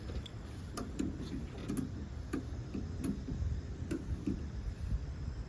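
A truck being lowered off a delivery truck, heard as a steady low mechanical rumble with irregular ticking and clicking clanks, moderately distant and without talk.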